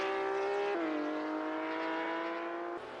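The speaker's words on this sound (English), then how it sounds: "they've got this full-blown Italian supercar with a Cosworth V8 motor in it" In a sim racing game, an Italian supercar with a Cosworth V8 holds a steady, tonal engine note and shifts down in pitch once early on. It sounds faint and alone, with no voices.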